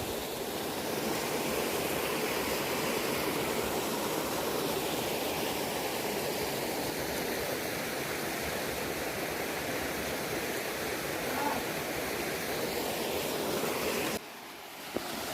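Mandala Falls at Antonio's Water Park sends up a constant broad roaring rush of falling water, steady and enveloping, cutting out abruptly near the end.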